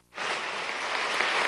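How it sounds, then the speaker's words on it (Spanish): Crowd applause at a graduation ceremony, given in honor of the health minister, starts abruptly and holds as a steady, dense roar of clapping from many hands. No voices sound over it. "un gran aplauso para este ministro de Salud, Luis López"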